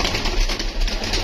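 Pigeons give soft, brief coos over a hiss of open-air background noise in a short, close snippet.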